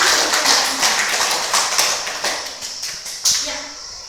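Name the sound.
classroom applause for presenting group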